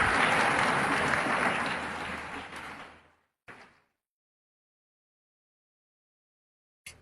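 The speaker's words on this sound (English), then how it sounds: "A big round of applause for Nandini Yadav." Audience applause for a speech contestant at a youth speaking event, a burst of crowd clapping that fades out after about three seconds, followed by a short rustle and then silence.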